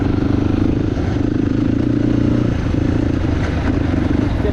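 A motorcycle engine runs steadily on a ride toward Kathmandu with a loud, continuous low rumble and rattling clatter that holds throughout, close up with no pauses.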